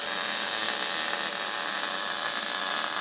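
Welding on a 2007-2011 Subaru Impreza EJ253 engine job gives a harsh, continuous high-pitched hiss and crackle that holds steady and loud throughout.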